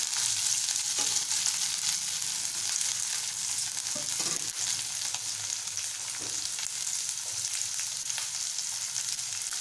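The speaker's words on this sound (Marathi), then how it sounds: "4-5 फरसबी बारीक चिरून घेतलेला आहे ते टाकूया आणि छान परतून घेऊया" Finely chopped French beans sautéing in a pan for a spicy Malvani-style soya chilli, a steady close hiss of frying with a few soft stirring knocks and no voices.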